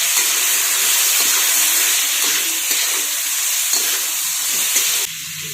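Washed, still-wet cluster beans drop into a hot turmeric-and-salt tempering, setting off a loud, steady sizzle and hiss that runs unbroken, then cuts abruptly to a quieter tail near the end.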